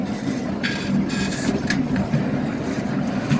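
Rumbling open-roofed tourist train running along with a steady low drone and occasional metallic clicks and hiss bursts, fairly close and continuous, in a garden park.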